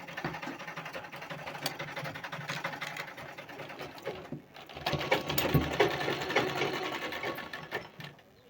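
A sewing machine stitches darts into a blouse, a close, continuous rapid whirring patter that pauses briefly midway and then resumes a little louder.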